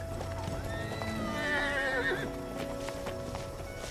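A horse close by, its hooves clip-clopping under a loud whinny that rises and wavers in the middle, with a soft background hum throughout.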